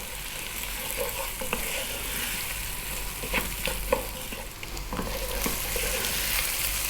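Mushrooms frying over fairly high heat for a vegan mushroom basil soup, a dense continuous sizzle with scraping stirs from a utensil against the pan, close and loud with no talk.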